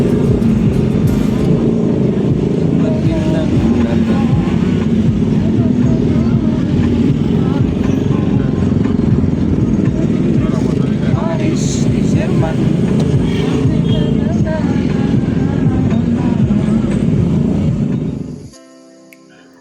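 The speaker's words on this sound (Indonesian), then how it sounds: "Kenapa suara motor kok begini?" A motorcycle engine drones steadily while riding on a road in Sumbawa, with a loud, continuous rumble and wind noise throughout, and people talking over it before it cuts out abruptly near the end.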